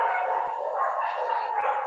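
Dogs bark and yip continuously under a steady noisy background, sounding somewhat distant and overlapping, during an online training session.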